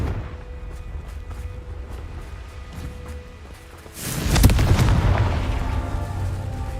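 In the Hogwarts Legacy video game, the Confringo blasting spell detonates with a sudden heavy boom about midway, followed by a roaring, crackling decay over a steady ambient game bed.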